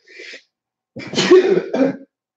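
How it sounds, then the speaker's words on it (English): A short breathy intake, then a loud close burst like a sneeze or cough trailing into a second smaller one. "I had to sneeze for like 30 seconds"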